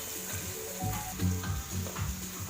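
Onions sizzling steadily in a small bowl-shaped pan, about two of them, while a spoon stirs and scrapes through them in short strokes, close up with no talk.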